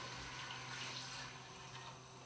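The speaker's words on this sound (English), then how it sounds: "we're going to pop in the chicken stock or veg stock." Chicken or vegetable stock pours into a pot for beetroot soup, a steady faint splashing stream of liquid running continuously without a break.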